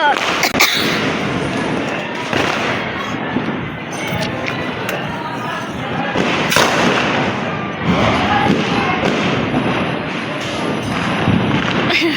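Firecrackers go off during Diwali at home, several sharp bangs and thuds spread unevenly through the stretch at close range, with voices talking between and over them.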